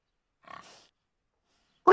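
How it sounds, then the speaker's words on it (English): A pig-like oink sound effect, a short grunting burst followed by a louder, sharper snort at the end, both brief and close with silence between. "I wanted to hit like oink oink in the background"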